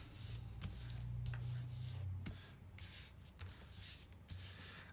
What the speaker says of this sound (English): We're just going to burnish this down a little bit.